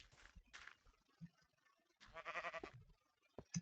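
A Minecraft sheep bleats a few times, short wavering cries standing close and clear against near silence, with a brief pause between calls.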